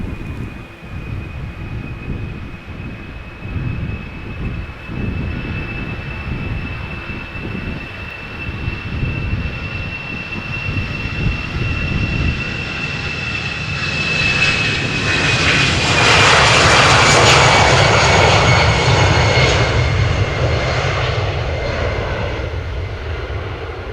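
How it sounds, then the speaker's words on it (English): An EasyJet airliner's jet engines spool up at Amsterdam Schiphol, a whining tone holding steady before the roar swells into a loud, broad blast that builds and then eases slightly, with no voices. "In fact, I hear it spool up"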